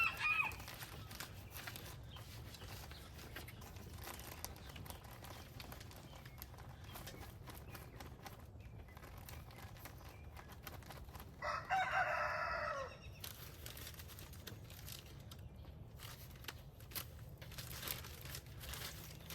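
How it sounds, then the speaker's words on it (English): A rooster crows once at a distance, a clear drawn-out call midway through, over a low steady background with faint clucking and shuffling. "there's a couple of roosters in there"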